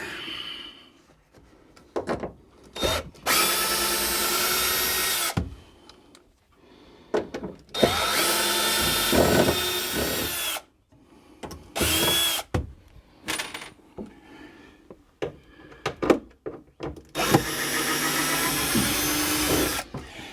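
Power drill backing out screws during a camper kitchen demolition, several bursts of loud whirring spaced by pauses and clatter, close and alone with no talk.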